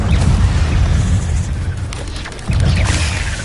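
The Incendio fire spell blast in a Harry Potter game: a loud, sustained rumbling whoosh of flame that dips briefly, then surges back with a fresh burst.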